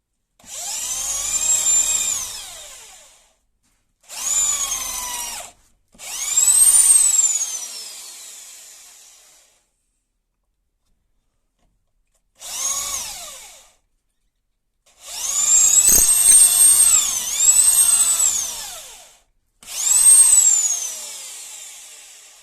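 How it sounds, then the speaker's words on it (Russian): A power drill runs in several bursts of whining, grinding noise, separated by pauses, close and fairly loud. "Сверлим не торопясь."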